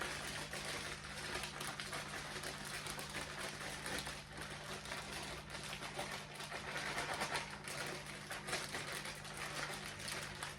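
Bacon strips being shaken inside a sealed Ziploc bag to coat them in a candied bacon mixture make a continuous crinkly rustling and rattling, fairly soft and steady for about ten seconds, with no voices.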